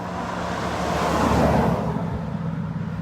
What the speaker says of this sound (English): there are cars that do drive past, like just now